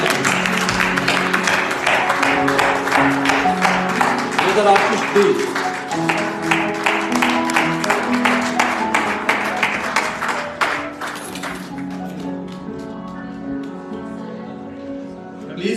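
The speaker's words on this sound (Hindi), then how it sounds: "ब्रदर आशीष दीप, जोरदार तालियों के साथ स्वागत करें।" Loud rhythmic clapping welcomes Brother Ashish Deep at a Sunday church service, steady over music for about eleven seconds before fading out, leaving the music ringing on alone.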